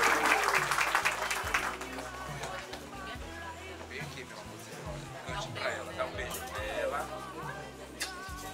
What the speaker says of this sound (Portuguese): Palmas para Ana Laura.